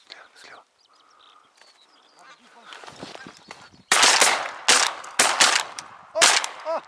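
Shotgun shots ring out during a goose hunt in Mari El, four loud sharp blasts in close succession after quiet whispered talk among the hunters and faint bird sounds.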